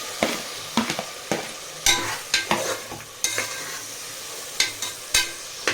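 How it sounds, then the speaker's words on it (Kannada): Tomatoes fry in a pan with softened mint and coriander for a red chicken biryani, a loud close sizzle broken by regular scraping stirs of a spoon, with no talking. "ಇವಾಗ ಟೊಮೆಟೊಸ್ ಹಾಕ್ತಿರ್ತೀನಿ."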